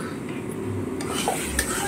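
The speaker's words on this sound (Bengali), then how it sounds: "নেড়ে গেলে একটু মশলাটা ভাজা হবে," Kashmiri chili powder and spices frying in a pan, stirred with a spoon that scrapes the metal in short strokes over a soft, steady sizzle.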